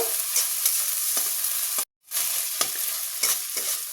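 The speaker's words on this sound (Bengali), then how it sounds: "এবার আমি আদা রসুন বাটা আর পেঁয়াজ ভালোভাবে কষে নেব।" Steady frying sizzle of ginger garlic paste and onion with stirring scrapes, broken by a brief silent gap before the sizzling resumes; no talking.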